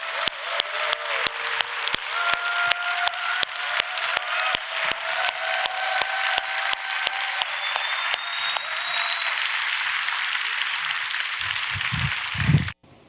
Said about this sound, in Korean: 박수 한번 해주시기 바랍니다.